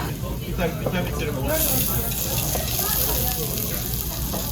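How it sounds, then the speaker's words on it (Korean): Korean beef sizzles and crackles steadily on a hot grill, with people chatting over the frying noise. "아, 지글지글 소리 좋죠?"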